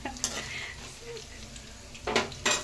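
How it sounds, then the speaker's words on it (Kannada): Garlic sizzling with curry leaves in a pan while puliogre is cooked, a soft steady fry broken by louder bursts of stirring and a pan clatter near the end. "ಬೆಳ್ಳುಳ್ಳಿ ಹಾಕಬೇಕು. ಸ್ವಲ್ಪ ಫ್ರೈ ಮಾಡಬೇಕು."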